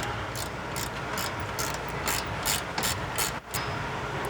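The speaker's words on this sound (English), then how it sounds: "Hand ratchet, 12mm socket." A hand ratchet with a 12mm socket tightens the ABS line fitting on a 2008 Subaru Outback, giving a steady run of quick, evenly spaced pawl clicks close by, with no talking.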